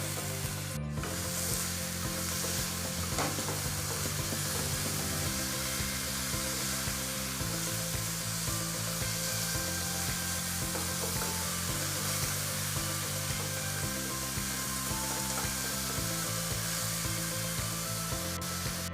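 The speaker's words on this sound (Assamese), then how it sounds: "বিলাহী আৰু পিঁয়াজখিনি ভালদৰে গলি যোৱাকৈ অলপ সময় ভাজি থাকিব লাগিব" A steady, hissing sizzle of tomatoes and onions frying in a pan, continuous throughout, with background music playing underneath.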